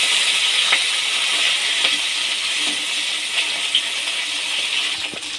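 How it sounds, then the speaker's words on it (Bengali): Bata fish sizzles in hot oil with a continuous close hiss dotted with sharp crackles and small pops throughout, fairly loud and even, with no voices. "এবার আমি একটি একটি মাছ বাটা মাছ ভেজে নেব।"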